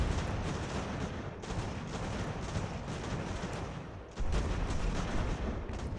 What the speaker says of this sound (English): we're getting hit from guns way back there